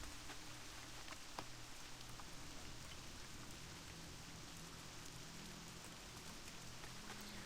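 Steady, dense rainfall in the video game World of Warcraft: Legion patters evenly throughout, a constant wash of drops with no pauses or voices.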